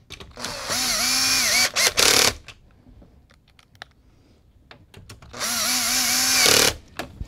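Two bursts of a power screwdriver driving screws during a computer build, each whining steadily for about two seconds at close range, with small clicks and handling noises between them.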